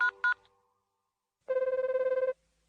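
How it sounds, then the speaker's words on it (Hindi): A mobile phone ringtone rings in a steady pulsing electronic burst, after two short tonal beeps and a quiet pause, fairly clear and close in an animated household scene. "फोन पर बेल तो जा रही है।"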